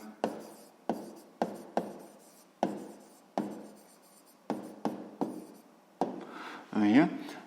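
Chalk writes an answer on a classroom board in a sixth-grade maths lesson: a series of short, rhythmic scratching strokes, about a dozen close taps and scrapes, with a voice briefly heard near the end.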